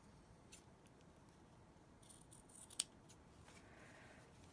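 Scissors trim fabric mask material in a few faint, close snips, with one sharper cut standing out in an otherwise quiet room.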